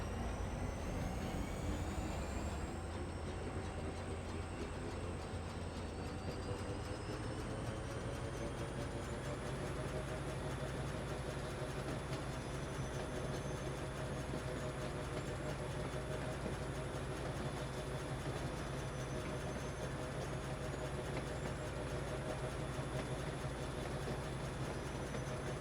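Trains running in the factory-building video game Foundry produce a low, steady mechanical hum and drone, constant and faint throughout with a slight shift in tone partway.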